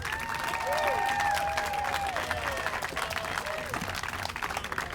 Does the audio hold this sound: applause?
yes